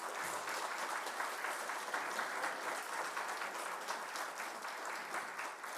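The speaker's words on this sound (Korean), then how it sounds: "그런 격려의 박수를 함께 드리도록 하겠습니다" Congregation applause during a church ordination service in Auckland, a soft, even wash of clapping that carries on unbroken for several seconds, quiet and somewhat distant, with no one speaking over it.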